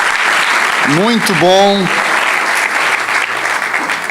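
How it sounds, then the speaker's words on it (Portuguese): A church congregation at Zion Church Lisboa applauds loudly and steadily in a dense, continuous wash of clapping, with a voice briefly speaking over it. "aplauda Jesus aí"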